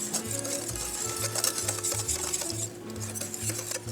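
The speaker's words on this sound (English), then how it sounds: "Whisk that all together." Spoon or whisk stirring pumpkin pie spice, salt and sugar together in a bowl, a steady rhythmic scraping and clinking close by with no talk.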